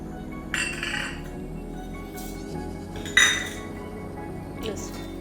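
Garlic, chilli and other ingredients for garlic sev go into a mixer jar, giving a few bright clinks and clatters of metal spoon on the jar over a low background hum.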